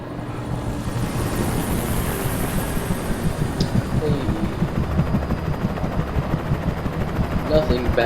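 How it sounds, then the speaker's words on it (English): A helicopter in the Alan Wake video game, heard as a loud, throbbing rotor drone that builds steadily, with its pulsing beat growing stronger toward the end and faint game sounds around it. "Nothing bad's gonna happen to that helicopter, is it?"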